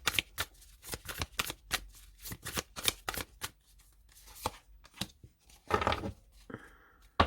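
Tarot cards shuffled and drawn by hand in a series of quick, crisp riffles and slaps, close and fairly quiet, with a brief rustling flurry near the end.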